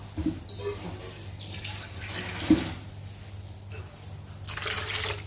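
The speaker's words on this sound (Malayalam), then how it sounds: "ഒരല്പം കൂടി വെള്ളം നമുക്ക് ഒഴിച്ചു കൊടുക്കാം" Water pours and splashes into a pot of mackerel curry in short bursts, with a clink of metal partway through.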